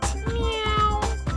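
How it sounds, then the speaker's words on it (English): A cat meows twice in clear, close, tonal calls, part of a children's cartoon about animals and colors, with bright music continuing underneath. "orange cat"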